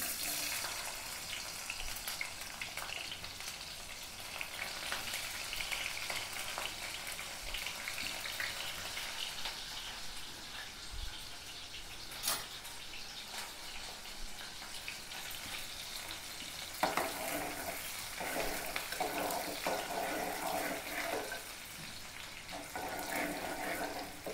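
Onions frying in hot oil in a pot while a homemade mutton curry is being cooked, a steady, even sizzling hiss that runs the whole time with a slight rise near the end.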